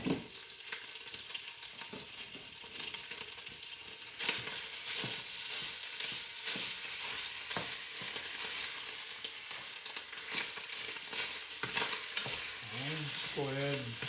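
Italian sausage frying in a grapeseed and olive oil blend, a loud steady sizzle broken by repeated scraping strokes of stirring and breaking up the meat, close up with no talking.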